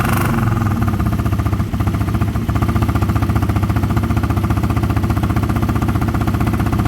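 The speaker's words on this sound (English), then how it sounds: "let's fire it up, Roger." KTM Duke 125 single-cylinder motorcycle engine fitted with a fuel module, loud and close, with a fast steady idle chug that keeps going, broken by one short dip.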